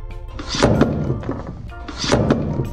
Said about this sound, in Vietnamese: Mình đóng cái cửa lại.